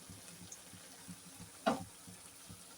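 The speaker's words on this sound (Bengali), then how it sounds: "এইবার আমি কড়ার হাতলটা ধরে এবার আমি চারপাশে কড়াটাকে ঘুরিয়ে ঘুরিয়ে চচ্চড়িটা করে নিচ্ছি।" Fish chorchori in mustard oil sizzles softly in a kadai, a low steady fry with one louder scraping stir partway through, no talking.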